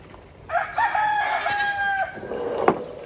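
A pet rooster crows once, a loud, close cock-a-doodle-doo of about one and a half seconds, followed by a brief sharp knock.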